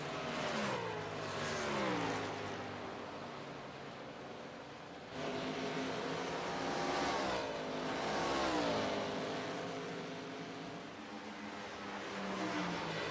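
Race cars lapping Pocono Raceway in an FMA John Dobias Cup Series race, engines swelling and fading as cars pass in steady waves of droning, shifting pitch, continuous and moderately loud with no talk over it.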